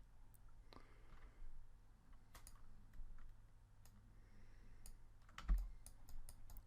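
Computer keyboard keys clicking sparsely with the space bar held down, scattered soft taps and a few sharper clicks over a quiet room hum.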